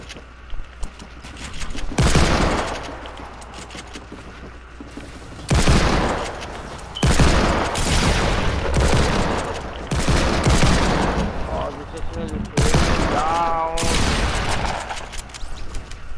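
Heavy automatic gunfire in a video game comes in several loud, separate bursts, each a few seconds long, with quieter gaps of game noise between them and little talk.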